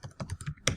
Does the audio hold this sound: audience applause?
no